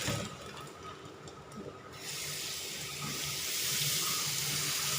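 Tap water runs steadily into a container to soak dried fish for a curry, a continuous close splashing rush that swells slightly louder partway through, with no voices.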